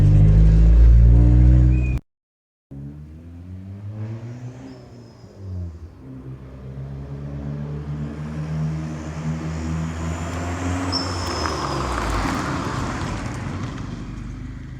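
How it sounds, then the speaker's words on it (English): A car fitted with an HKS blow-off valve drives past outside, engine note rising and falling through the pass with a couple of sharp hissing valve releases, loudest near the middle and fading after. "that was the best outside blow-off valve video you're going to get for right now"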